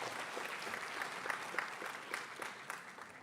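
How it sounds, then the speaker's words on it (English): A graduation ceremony audience at IIT Hyderabad gives sustained, faint and distant applause, with many overlapping claps forming an even wash. "give a big round of applause"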